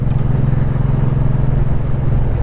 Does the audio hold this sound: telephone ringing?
no